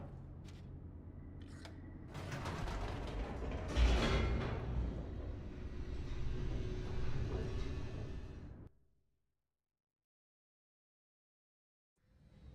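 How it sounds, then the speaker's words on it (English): An elevator descending in The Stanley Parable, with a mechanical clunk and a rising rumble that settles into a steady low whir before cutting off abruptly into silence, then a faint return at the end. "The elevator raced downward, plummeting towards an unknown fate."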